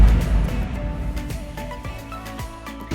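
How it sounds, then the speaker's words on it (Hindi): A Crompton Optimus 100 air cooler runs close by with a steady whirring fan drone and a faint mechanical hum. The sound is continuous and even throughout, with no talking. "तो अभी मैं कूलर के पास में ही हूँ, तो आप सुन सकते हो कि कितनी आवाज़ करता है"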